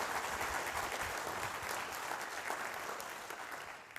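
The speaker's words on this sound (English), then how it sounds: "So another round of applause for him and his team." A conference audience applauds a team in a continuous, even wash of clapping that holds steady for several seconds, then tapers slightly toward the end.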